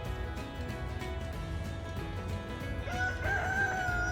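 A rooster crows over a busy, steady background of other sounds, its call rising clearly near the end.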